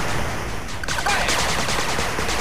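Units in the retro-style strategy game 8-Bit Armies open fire, a dense rattling fusillade of small gunshots swelling midway and continuing as a noisy, steady barrage.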